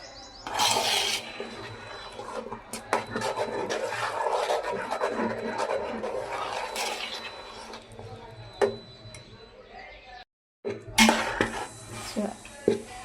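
A spoon stirs sabudana wafer mixture in a metal pot, making repeated scraping and clinking knocks at an uneven pace, moderately close, while a person talks over it.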